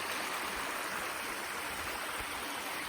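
Steady broadband rush of a small run flowing out to empty into Pine Creek along Brown's Run Trail in Pennsylvania, constant and fairly close, with no voices.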